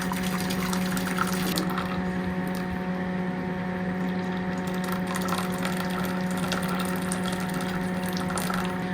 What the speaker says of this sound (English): I will start by adding boiling water to the pot first